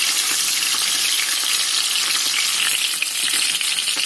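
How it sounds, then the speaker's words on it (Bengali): Eggplants sizzle and crackle in hot oil in a pan, with a dense, steady frying hiss that stays loud and close throughout. "তেলটা গরম হয়ে এসেছে, আমি এবার এই বেগুনগুলো ছেড়ে দেবো আস্তে আস্তে।"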